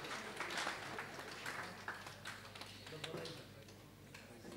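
Scattered applause from an audience at a Nepal Red Cross blood donor honouring ceremony in Bhaktapur, a light patter of claps under a speaker's voice and room murmur.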